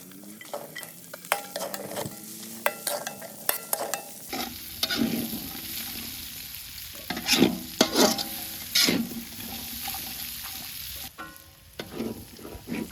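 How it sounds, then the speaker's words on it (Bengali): Onion, garlic and bay leaf frying in a new kadai of leftover fish-frying oil, a steady close sizzle with scattered stirring scrapes and clinks of a spatula against the pan, no talk. "মাছ ভাজার তেলে ঢেলে দেব পেঁয়াজ,"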